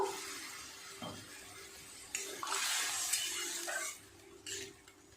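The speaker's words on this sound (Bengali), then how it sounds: "আর একটু জল দিয়ে দেবো আলুটা সিদ্ধ হওয়ার মতো" Water is poured into a pan of potatoes for aloo posto, a brief splashing gush that swells for a couple of seconds and then tapers off, close and moderately loud.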